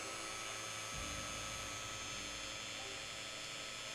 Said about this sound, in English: Or maybe you will see something when I'm drilling through it.